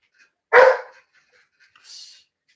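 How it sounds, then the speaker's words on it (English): A dog gives one loud, sharp bark at close range, followed by a softer, higher yip or whine a moment later, with nothing else in the room. "Now my dog making all that doing noise."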